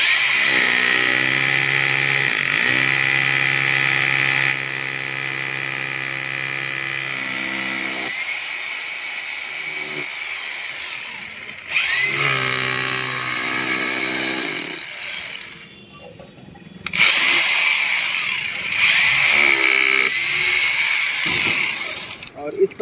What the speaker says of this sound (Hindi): अब इसके बाद 8 नंबर बीट से इस जगह पे ड्रिल करेंगे